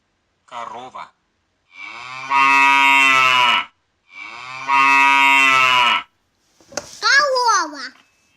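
Two long, loud cartoon cow moos sound one after the other, with a child's short speech before and after them.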